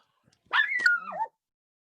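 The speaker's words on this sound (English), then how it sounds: "He always does that same fucking bark every time he hears something" A single drawn-out, whining bark from a dog indoors, rising and then sliding down in pitch, close and fairly loud against otherwise quiet surroundings.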